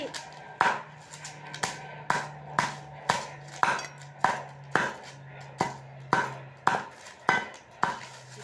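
A blade chops through two-day-dried palm leaves to trim their tips, giving about a dozen sharp, evenly spaced thuds close up with short pauses between strikes, no voices.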